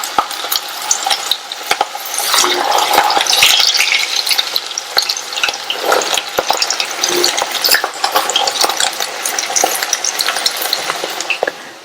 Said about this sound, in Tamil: நம்ம மேரினேட் பண்ணி வச்ச காலிஃபிளவரை கொஞ்சம் கொஞ்சமா எண்ணெயில சேர்த்து ஃப்ரை பண்ணிக்கலாம்.